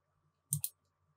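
Two quick clicks of a computer mouse button, close and crisp against a quiet background hum, coming in rapid succession.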